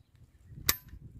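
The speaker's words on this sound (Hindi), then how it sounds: "बस इतने फायर काफ़ी है दोस्तों" One sharp crack from a 5.56mm .223 rifle fired outdoors, a single brief report with a short tail over quiet low background noise.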